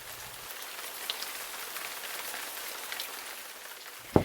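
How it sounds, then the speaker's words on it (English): Steady rain falls, a continuous soft hiss of drops on a surface with a few scattered louder drips, ending in a sharp knock near the close. "The dog barked louder, and still the rain came down."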